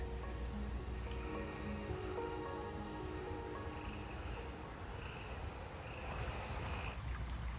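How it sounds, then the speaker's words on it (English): A creek runs beside a countryside house, its water making a soft, steady, even rush with no breaks or voices. "Who doesn't love the sound of running creek water?"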